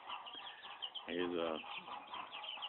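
An Ameraucana chicken clucks softly among other chicks, with a brief clearer call in the middle, faint and close, while low background noise continues.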